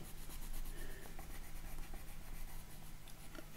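Close, soft rubbing of a burnishing tool pressing paper down on a handmade lily tag, a steady faint scratchy friction lasting a few seconds without voices.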